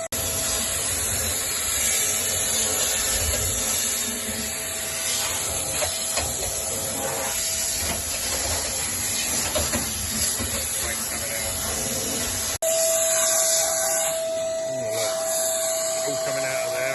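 Air is blown through a fuel line on a Rootes 1725 engine in a Fastback with a fuel problem, giving a steady close hiss that runs continuously before a brief change in tone near the end.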